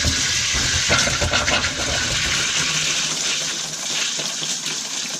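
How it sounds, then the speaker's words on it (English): Hot water gushes loudly and steadily from an RV faucet into a bathtub, sputtering with air trapped in the water lines. "but that is actually hot water coming out of there."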